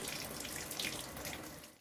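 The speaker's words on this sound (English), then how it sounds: "I washed the tomatoes and eggs." Tomatoes and eggs are rinsed under a running kitchen tap in a steady, close rush of water that drops off abruptly at the end.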